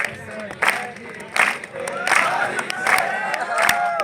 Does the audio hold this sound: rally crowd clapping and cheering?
yes